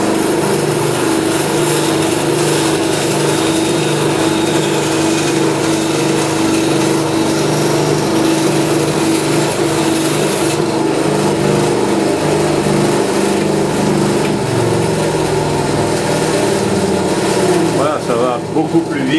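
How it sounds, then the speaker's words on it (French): Band saw cutting wood along a marked line, a loud steady motor whine with continuous cutting noise throughout, close up and unbroken. "je vais faire une coupe selon le trait"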